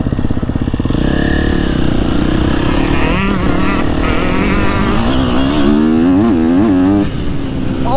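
A 2024 KTM 250 SXF motocross bike engine runs loud and close, holding a rough, steady drone that swells and wavers through repeated revs before easing slightly at the end.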